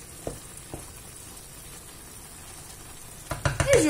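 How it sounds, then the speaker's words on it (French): A pot of milk being stirred while cooking for a chicken pasta gratin gives a few faint taps and a soft, quiet simmer, ending in a brief louder scrape of the spoon. "j'ouvre et je touille un petit peu"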